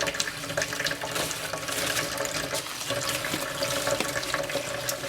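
Water from a tap runs steadily into a bowl to soak corn husks for tamales, a continuous close splashing fill that lasts the whole stretch with no talk.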